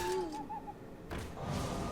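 Hearthstone owl card, an owl hooting once in a short, clear call over game background sounds, followed by a brief burst of effects.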